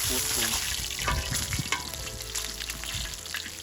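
Floured fish frying in a skillet over a very hot fire, a steady loud sizzle and crackle throughout with occasional stirring clinks, no talking.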